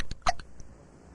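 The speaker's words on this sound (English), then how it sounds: "This is the worst case of hiccups we've ever treated." Bart Simpson, the cartoon boy from The Simpsons, gives a sharp, close hiccup in a burst of quick vocal clicks, followed by quiet.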